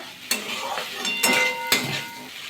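Tomato and spices frying in a pan for chickpea dal, stirred with three distinct scraping strokes of a spoon over a steady close sizzle.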